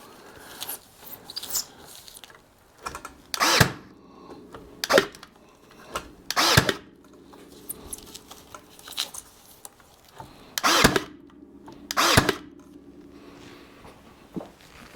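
A strap is nailed onto a bundle of firewood on a Hudson electric bundler, giving a series of sharp, close bangs at irregular intervals, about seven in all, with quieter rustling and clatter between them.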